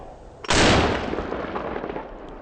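A turkey shotgun fires a 3.5 inch Longbeard XR number 6 shell in a single loud, close blast, followed by a long rolling echo outdoors.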